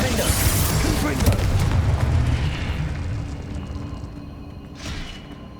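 A heavy booming blast from the Confringo explosion spell in Hogwarts Legacy, loud at first and then rumbling away over a few seconds, with a fainter second burst near the end.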